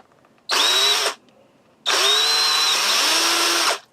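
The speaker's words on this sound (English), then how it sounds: "We'll just hold it here and rivet it. Not rivet it, drill it." Two bursts of a high-pitched power drill whining through a metal bracket, a short one then a longer one, with a quiet pause between them.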